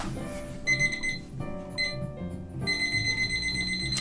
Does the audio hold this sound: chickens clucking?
no